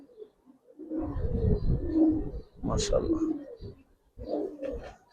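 Khaki pigeons coo in soft, throaty rolling phrases close by, repeated several times, while someone speaks briefly over them.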